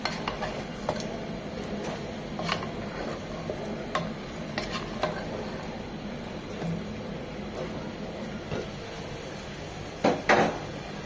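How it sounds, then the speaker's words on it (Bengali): Chicken cooking with spices in a pan gives a soft, constant sizzle, with occasional stirring scrapes and light knocks of the utensil, and a louder cluster of clatters near the end, all fairly quiet. "মশলাগুলো চিকেনগুলোর সাথে খুব ভালোভাবে কষিয়ে নিতে হবে।"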